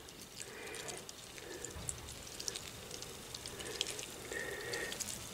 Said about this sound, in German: ich gieße jetzt die ganze Geschichte nochmal